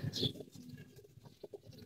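Pigeons coo softly in a small backyard loft where the birds are fed paddy; a few faint, low murmuring calls sit in quiet surroundings.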